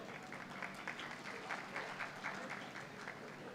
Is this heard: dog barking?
no